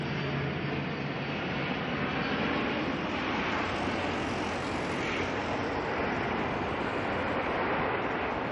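An NZ 5052 aircraft arriving at Auckland from New Plymouth, a steady, moderately loud engine roar that swells slightly mid-way and holds without any talk over it.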